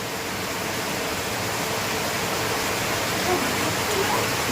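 Continuous heavy downpour of rain, a dense, steady hiss that stays even and fairly loud throughout with no pauses or distinct drops standing out.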